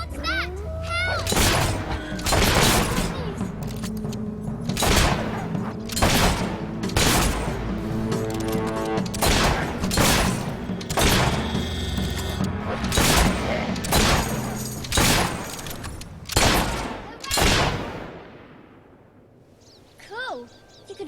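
Gunfire in the video game Fable 3 cracks out in a long series of loud, sharp shots spaced irregularly, some booming, with mechanical clicks between them and a voice occasionally speaking over the action.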